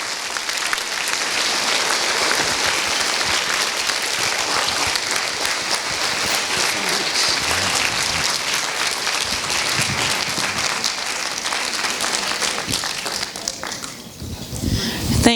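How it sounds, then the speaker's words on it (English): An audience claps loudly and steadily for about fourteen seconds after a talk on history, the dense applause sounding near and continuous before thinning out at the end. "You can please join me in just one more round of applause for Chris."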